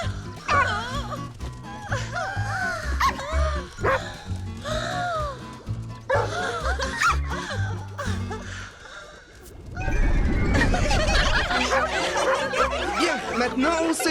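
Cartoon dogs from Charlotte aux Fraises barking and yipping in quick, lively bursts, mixed with high giggly laughter-like yaps, followed by a louder, busier stretch of energetic noise.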